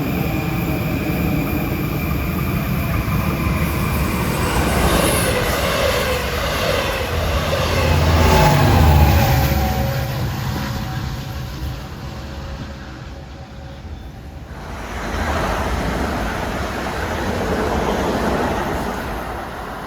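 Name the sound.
LIRR train 7 passing Forest Hills station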